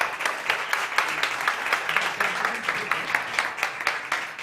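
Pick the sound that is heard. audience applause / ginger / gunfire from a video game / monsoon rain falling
audience applause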